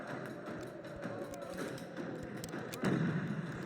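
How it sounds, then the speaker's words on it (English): Mortars firing during a Total War battle with the Venetian Empire, a series of dull thumps in a busy battle din, with one heavier, louder thud near the end. "Mortars firing their shots with their curved trajectory"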